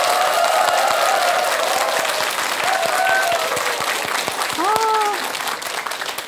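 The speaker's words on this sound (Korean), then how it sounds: "커다란 박수 주십시오." Loud studio-audience applause at a Buddhist hymn-singing TV programme as a pianist is welcomed, thick steady clapping with a few rising whoops and cheers breaking through before it eases slightly.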